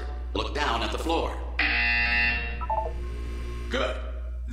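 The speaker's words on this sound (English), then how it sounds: "When you hear the buzzer, look down at the floor." Inside the Portal 2 video game, a steady electronic buzzer tone drones for about two seconds. Synthetic speech comes before and after it, over a constant low hum.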